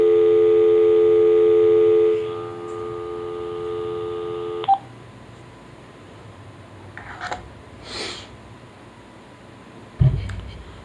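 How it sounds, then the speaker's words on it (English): A steady telephone dial tone hums for a few seconds through a WiFi range extender, then cuts out, leaving faint room noise with a few soft clicks and taps. "We got a dial tone."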